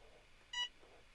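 A timer for a 30-second countdown gives a single short, faint electronic beep against quiet room background.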